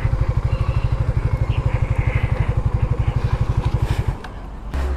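A parked motorcycle idles with a rapid, even engine putter that runs steadily for about four seconds before dropping away, loud and close, with faint street noise behind.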